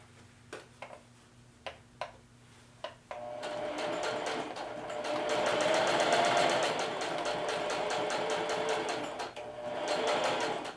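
A sewing machine runs a straight stitch at 3.5 to 4 mm length and zero width on a pocket. A few sharp clicks come first, then a loud, steady mechanical whir builds, close up, with no talk.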